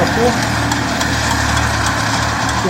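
A tractor engine runs steadily at close range during hay mowing with a rotary mower, a rough, continuous drone with a low throb, while someone talks over it.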